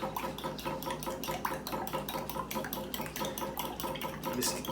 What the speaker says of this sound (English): make sure you whisk these